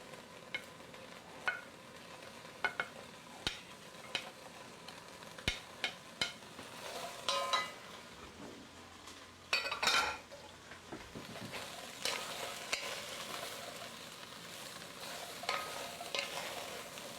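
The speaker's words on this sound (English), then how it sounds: "Okay, so we're just going to saute this" Vegetables for a southwest stew are sautéed on high heat in a heavy-duty pot, a faint sizzle under repeated utensil scrapes and metallic clinks against the pot, with a busier burst of clatter midway.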